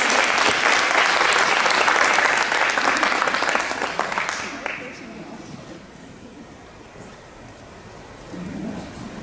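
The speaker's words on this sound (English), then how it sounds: "if y'all can help me by giving Miss Finley a round of applause" An audience at a school board meeting applauds loudly for about four seconds, then the clapping fades into quiet room noise with brief speech.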